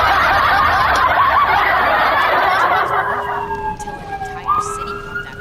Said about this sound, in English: I don't know if y'all hear the sirens in the background